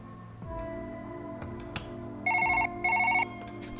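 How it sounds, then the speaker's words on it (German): A telephone rings in the Surgeon Simulator VR video game, two clear electronic ring bursts following each other after some clunky handling noises, loud and close, with no talking over it. "Fuck you, Telefon!"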